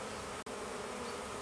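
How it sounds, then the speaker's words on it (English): Honeybees drone in a dense, steady buzz at close range while a colony is split into a second hive for an artificial swarm, with one brief dropout. "I just want to put some more nurse bees into the second hive"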